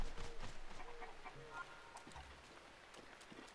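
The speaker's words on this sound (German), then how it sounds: "Entwischte Hühner. Neuer Eintrag." Escaped chickens cluck in the village of Kakariko in Zelda Breath of the Wild, several short clucks and squawks close by over soft background game ambience.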